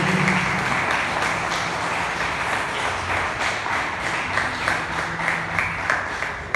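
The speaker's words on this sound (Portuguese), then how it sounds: "Você pode aplaudir ao Senhor, queridos?" Steady applause from a church congregation fills the whole stretch, dense and even, with a faint hum and occasional louder claps near the end.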